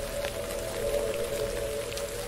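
Steady rain loop from the Dark Nights horror game, a continuous wash of falling rain and pattering drops with a faint constant hum underneath, no voices.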